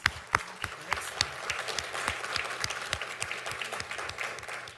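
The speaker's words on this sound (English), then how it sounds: "That deserves a round of applause," Applause at a school board meeting, a moderate indoor round of clapping with distinct individual claps standing out regularly over a softer spread of hands throughout.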